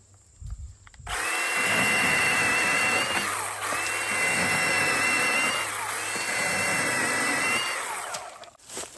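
A small Milwaukee battery chainsaw buzzes steadily through tree branches, its pitch dipping slightly as it cuts, running for several seconds without a break.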